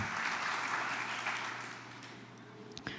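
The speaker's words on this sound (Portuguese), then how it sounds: "Dá um aplauso ao Senhor" Church congregation applauding during a worship service, a steady wash of many hands that gradually fades over a few seconds.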